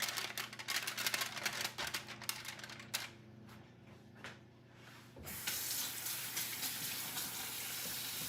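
A kitchen tap runs for hand washing during cooking, first with quick clicks and rattles and then a steady rush of water for the last few seconds, moderately quiet, with no speech.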